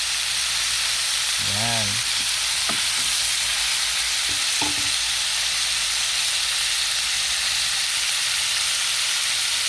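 Vegetables cook in a pot with a constant loud sizzling, bubbling hiss, while a voice speaks briefly near the start and a couple of clinks of utensils cut through.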